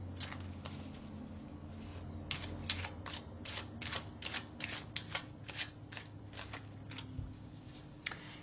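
Tarot cards are shuffled by hand in a quiet room, a long run of quick crisp riffling snaps and soft flicks, close and faint, with no voice.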